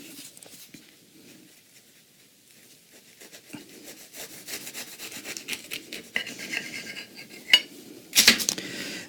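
A knife sawing through a vegan burger topped with onion, tomato and pickles on a plate, soft rasping strokes building in the second half, ending with a sharp scrape and clink of the blade against the plate.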